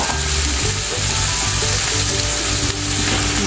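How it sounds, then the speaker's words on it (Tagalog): Boiled beef, still wet from the pot, drops into a hot pan with a loud, steady sizzle and frying crackle throughout, plus some stirring. "Lagyan natin ang ating beef. Yung pinakuluan."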